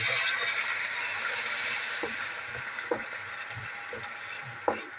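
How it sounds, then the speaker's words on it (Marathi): Water poured into a hot pan of frying onion and capsicum for a chicken chilli dish, a steady hiss and sizzle with a few soft clinks and stirring knocks, no talk. "बघा आता थोडंसं आपण पाणी टाकून घेऊया"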